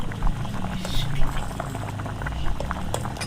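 Chocolate tea bubbling and simmering in a pot, a steady boiling burble with soft pops, close and moderately loud, alone without talk.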